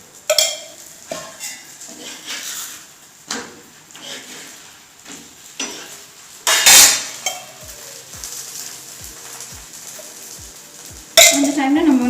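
Parota cooking on a pan with oil added, giving clanks of pan and utensil and a faint sizzle, with sharp scraping bursts and a run of light rhythmic taps.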